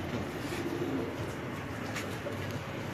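Fancy pigeons at a Lahore loft keep up a continuous low cooing, close and moderately loud, with a few faint higher chirps and no speech over it.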